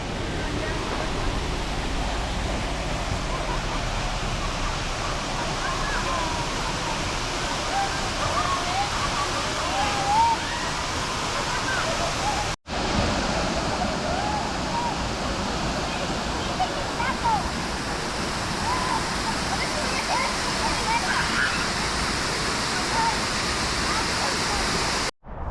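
A tall waterfall near Portland with a swimming pool at its base, roaring as a steady broadband rush of falling water, loud and continuous, briefly cut off midway and again at the end.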